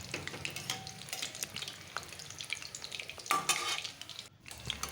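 Chicken vegetable pakora fries in hot oil, a soft crackling sizzle broken by stirring scrapes and clinks of a utensil against the pan, fairly faint and steady with no voices.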